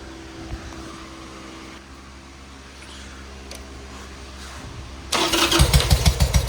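A Harley-Davidson Sportster engine, just back from a carburetor clean, sits quietly before firing into a loud, rumbling start about five seconds in, with pulsing, uneven idle beats close by to the end.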